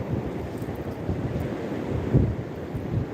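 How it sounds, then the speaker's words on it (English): Wind gusting on a Florida beach, a steady low rumble buffeting the microphone with surf-like swells and a louder gust near the end, no voices. "I think I'm blocking the wind now."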